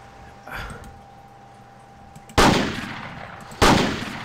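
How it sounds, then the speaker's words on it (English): Two loud, sharp shotgun blasts from the hunting video game Cabela's Big Game Hunter, each a sudden crack with a decaying tail about a second apart, preceded by a softer thump and a faint hum. "I'm using the shotgun"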